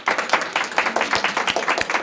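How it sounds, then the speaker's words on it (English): Children at a music academy recital clap for a classmate, a steady run of sharp, uneven handclaps from a small group nearby, with no talking. "we're gonna clap for Christian because he went around the world"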